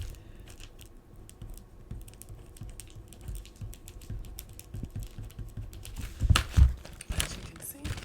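A pen scratches across paperwork as a name is written, a soft, close, uneven run of scrapes and taps with paper crinkling, growing louder toward the end, while a low voice murmurs in the background.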